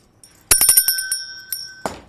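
Small bell struck repeatedly, a rapid cluster of bright metallic dings with ringing overtones, then a couple of spaced single rings, close and loud.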